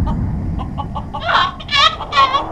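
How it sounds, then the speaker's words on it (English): Rooster in the Journey To The Center Of The Moon game, heard as a few rising, strained calls near the end of the clip, over a low rumbling background with faint ticking sounds before them. "here's the rooster I smuggled on board"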